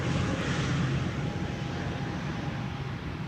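A Boeing 767 on arrival to the Polderbaan runway at Amsterdam Schiphol produces a steady, broad engine roar that stays loud throughout, fading slightly toward the end with no talk over it.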